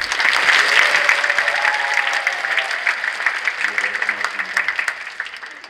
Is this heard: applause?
yes